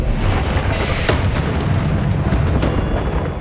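Booming blasts from the Bombarda and Confringo spells in the Hogwarts Legacy video game, several loud explosive bursts and crackling debris following one another in quick succession with no talk over them.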